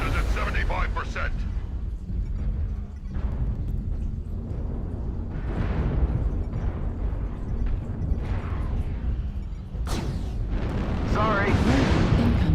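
Missile explosions in a mech combat game boom and rumble at intervals over a steady low roar, with one sharp blast near the end, while a person talks throughout.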